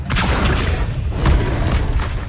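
In the Hogwarts Legacy video game, the Accio spell lets out a continuous deep rumbling boom with a few sharper bursts layered over it, loud and close for a couple of seconds.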